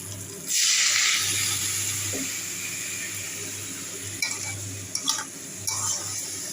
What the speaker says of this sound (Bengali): এখন আমি জল দিয়ে তারপর আবার এই যে বাসন মাজবো কতগুলো বাসন আছে